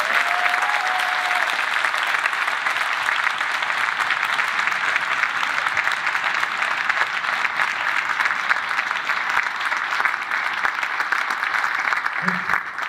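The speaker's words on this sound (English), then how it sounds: "can you help me give a round of applause for these amazing people?" Sustained, even applause from a concert audience at an all-district symphonic band event, a dense wash of clapping that carries on steadily without a break.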